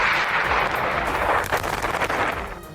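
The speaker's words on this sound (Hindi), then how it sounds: "मिसाइल हमले के बाद हुए धमाके की आवाज इतनी तेज थी कि पूरा इलाका गूंज उठा।" Israeli missile strike on buildings along the Mediterranean shore, a loud, sustained explosive roar with crackling bursts that slowly fade over a few seconds.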